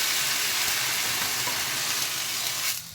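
Steady, gentle sizzle of a zucchini thalipeeth, a Maharashtrian flatbread, frying in oil in a pan, continuous and close, then dropping away abruptly near the end.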